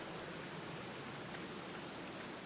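Steady rain falls in the horror adventure game The Black Mirror, a dense, even hiss of downpour that holds unchanged throughout with no voices.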